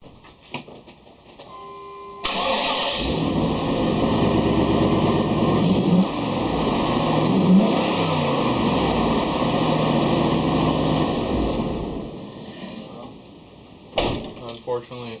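A 454 7.4 L V8 with a freshly replaced exhaust gasket cranks and catches after a couple of seconds. It then runs at a steady, even idle for about ten seconds before it is shut off.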